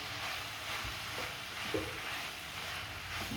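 Vegetables with turmeric, chilli, coriander and sambar powders sauté in hot oil for kootanchoru, giving a soft steady sizzle with a few scraping stirs of a spoon against the pan.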